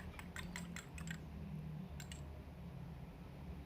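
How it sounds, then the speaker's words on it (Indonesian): A single egg is whisked in a bowl for soft chocolate-sprinkle bread dough, giving faint, quick clusters of light clicking taps that stop and start again against a quiet background. "Kita kocok lepas terlebih dahulu."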